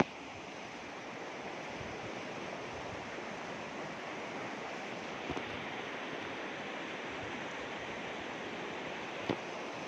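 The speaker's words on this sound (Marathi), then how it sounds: "पाणी पहा कसं किती प्रेशरनं येत आहे आणि किती प्रेशरनं पुढं जातं" Swollen flood water in the Purna river rushes under a bridge, a dense, continuous roar of turbulent water heard close and steady with no talk.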